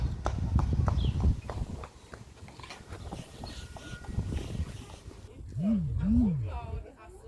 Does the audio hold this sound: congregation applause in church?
no